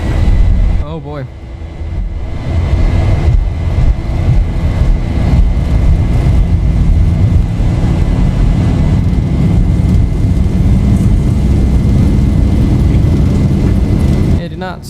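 Boeing 737 (Zibo) jet engines spooling to takeoff thrust in X-Plane 11, a loud continuous broadband roar that builds after a short pause and holds steady, with voices faintly present.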